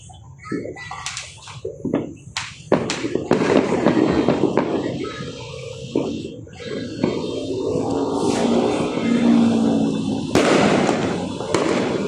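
New Year's Eve fireworks burst repeatedly before midnight, sharp booms and crackles overlapping into a loud, continuous barrage with irregular rhythm.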